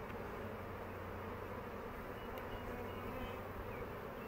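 Honeybees buzz softly and continuously around an open hive during an inspection, a faint steady drone with no talk.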